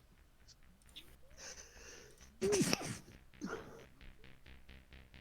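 A single sharp sneeze bursts out loudly in the middle, preceded by a breathy inhale and followed by a smaller snort-like exhale, with faint background noise around it.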